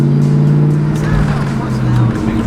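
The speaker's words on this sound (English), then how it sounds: "We'll do a little shift to third gear." A 2003 Mustang Cobra Terminator with a new transmission shifts into third gear, its engine droning loudly close up and the pitch dropping and climbing again through the shift, with a voice speaking over it.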